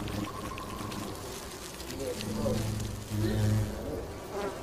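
A swarm of honeybees and attacking murder hornets buzzes densely and close, the droning rising and falling in waves.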